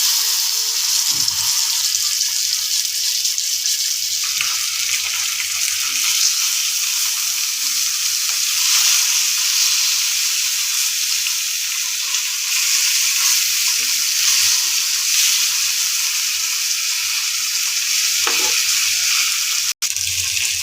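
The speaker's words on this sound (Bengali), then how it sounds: "তেলাপিয়া মাছ প্রথমে ভেজে নিচ্ছি।" Tilapia fish frying in hot oil in a home kitchen, a loud, continuous crackling sizzle with a few brief pops and shifts, running on steadily with no voices.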